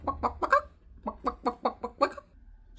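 A person's voice imitates a chicken with a rapid run of short, throaty clucks in two bursts, close and clear with brief pauses between, ending in a faint tap.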